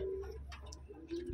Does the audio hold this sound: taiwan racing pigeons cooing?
yes